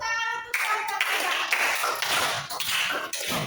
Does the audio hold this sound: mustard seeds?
no